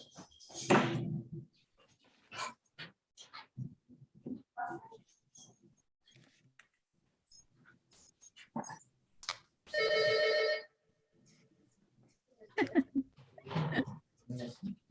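A telephone rings once in a loud, sustained burst of about a second during a court hearing, with people talking before and after it.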